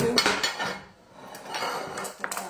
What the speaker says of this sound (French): je vais venir hacher finement la iceberg